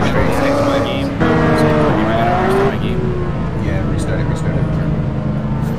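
Traffic cars on the FDR drive roar loudly with revving engine tones that rise and shift, a sharp squeal-like swell midway, and a steady road rumble, with a voice over it.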